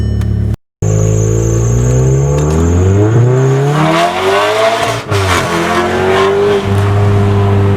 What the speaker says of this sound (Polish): mamy tutaj dwulitrowy silnik, czterocylindrowy, ułożony rzędowo, o mocy 300 koni